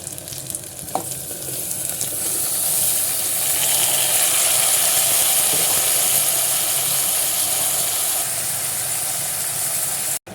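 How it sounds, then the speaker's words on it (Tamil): Chopped small onions and tomatoes sizzle steadily in a hot pan of oil while tomato bajji is cooked, a constant bright frying hiss that swells after a soft knock near the start and runs on without talk. "வெங்காயம் வதங்கும் போது தக்காளியை சேர்த்து வதக்கிக்கலாம்"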